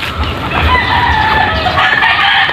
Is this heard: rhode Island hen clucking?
yes